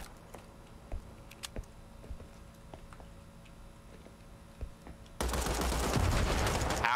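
Gunfire in the urban warfare shooter Nine to Five: a few sharp isolated shots over a quiet background, then a sudden loud sustained burst of firing filling the final seconds.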